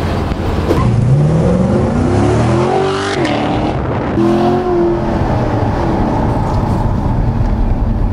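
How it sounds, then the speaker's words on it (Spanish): A Chevrolet Corvette launching hard with launch control: loud, close engine roar sweeping up through the gears with sharp rising revs and shifts, over strong road and wind noise. "Vamos a salir con launch control."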